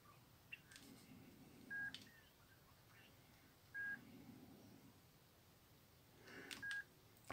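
Keypad tones from a retro mobile phone being dialed on a Vodafone Ukraine SIM: three short, separate beep bursts at quiet level, spaced a couple of seconds apart over faint background noise.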